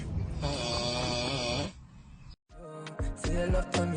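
A seated person snores loudly and close, with a long rasping inhale, a pause and then further harsh snoring pulls, heard alone without talk.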